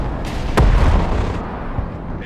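A different rocket launcher fires in Broken Arrow, a Russian battalion tactical group battle game: one sharp loud blast followed by a rolling boom, set against a continuous wash of distant battle noise.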